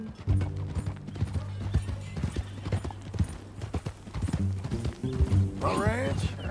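Horse hooves clip-clop steadily in Red Dead Redemption 2, a rhythmic run of close, sharp hoofbeats with mechanical rattles under several spoken lines, ending with a brief whinny.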